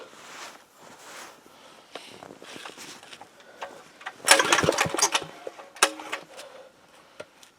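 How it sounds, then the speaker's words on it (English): A small 168F diesel engine being cranked on a cold start gives repeated rough, uneven pulls and sputters, building to a louder burst of mechanical clatter midway before fading back to sporadic knocks. "Still don't think I'm getting good enough crank on it."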